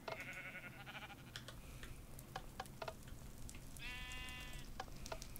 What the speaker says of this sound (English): There's two sheep over here.